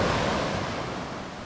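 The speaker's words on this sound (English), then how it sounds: "Beautiful beach." Surf rolls in at Manuel Antonio beach, Costa Rica, as a steady, broad wash of breaking waves with some wind noise, fairly loud and close, with no voices.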